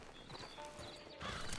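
A horse's hooves clip-clop at a walk in Red Dead Redemption 2, with a faint whinny and light background ambience, quiet and close, without talk.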